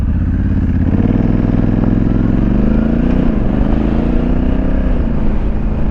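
A Honda Africa Twin DCT CRF1100L motorcycle engine roars up close in sport mode, its pitch climbing as it accelerates hard, with a steady loud rumble throughout and no talking.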